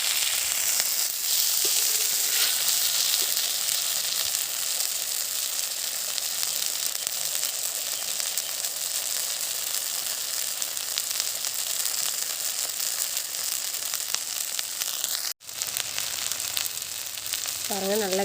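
Fish fries in sesame oil in a primitive outdoor setting, giving a loud, continuous close sizzle and crackle that holds steady throughout, briefly cut by a sharp dropout near the end.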